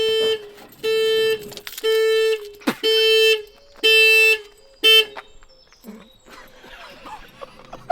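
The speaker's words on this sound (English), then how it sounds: "I don't know how that alarm didn't go off last night when I was sleeping in here" A car alarm on a Hyundai i800 camper van blares in loud, evenly spaced honking bursts, about six in a row, then cuts off, leaving quieter background noise.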